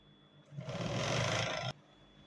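Sewing machine stitching stretched bands onto cargo pants, one close, steady whirring run of about a second that starts and stops abruptly, with no talk.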